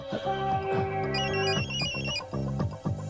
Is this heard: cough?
no